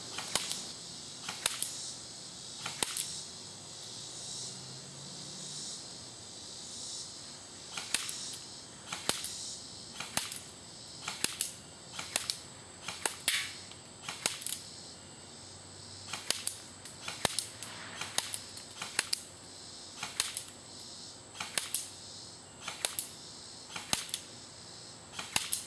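Shots fired at a paper target while testing a red-green dot ACOG-style scope, heard as sharp, fairly faint cracks at somewhat irregular intervals, about twenty in all, against a quiet background with no talking.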